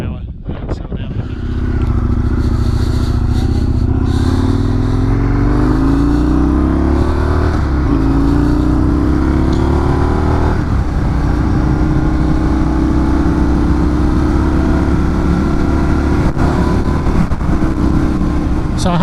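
Indian FTR1200 Rally motorcycle being ridden, a loud continuous engine drone with rising and falling revs and wind rush, close and sustained throughout.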